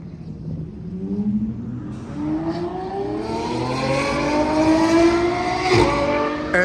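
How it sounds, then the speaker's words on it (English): Loud Lamborghini engine revving hard, its rising and falling harmonic sweeps climbing through several strong revs, with a sharp crackle near the end and steady exhaust roar throughout. "it would be cool just to have a car that is fucking that loud"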